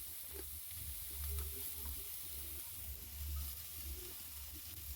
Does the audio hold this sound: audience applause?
no